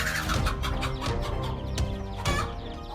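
A mother hen guarding her nest gives agitated clucks and squawks in quick succession, close and fairly loud.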